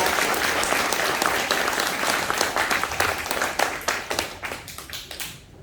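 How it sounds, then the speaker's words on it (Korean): An indoor audience at a community meeting at a welfare centre for people with disabilities gives steady, loud, dense applause to welcome the county governor, holding strong before thinning into scattered claps near the end. "힘찬 박수로 환영해 주시기 바랍니다."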